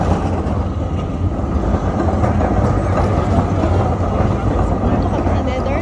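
A tram pulling into a stop in The Hague, Netherlands, with a loud, steady rumble of wheels and motor up close and a low rolling drone throughout.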